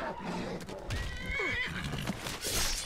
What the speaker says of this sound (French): C'est les chevaux de Skyrim.